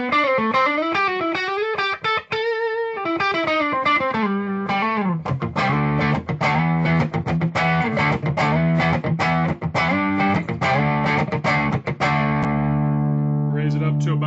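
Distorted electric guitar riffs through a Hao Rust Driver pedal on the neck pickup, guitar volume at about 6, with a warm, thick tone, strummed chords and sustained notes ringing out continuously, loud and close.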